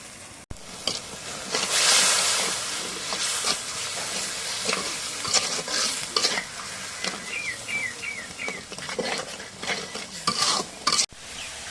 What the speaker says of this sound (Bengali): এখন একটু জিরা রসুন রেখা দিয়ে দিই একটু গরম মশলা রেখা দিয়ে দিই